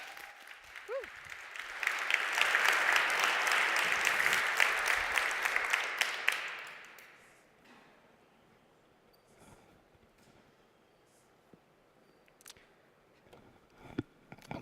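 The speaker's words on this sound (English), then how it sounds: "please welcome warmly to the stage Liad Magen, data scientist and deep learning expert from WeAreDevelopers, to the stage with a big round of applause" A conference audience gives a loud round of applause as a data scientist and deep learning expert is welcomed to the stage. It swells over the first seven seconds, then fades to scattered claps and quiet room noise.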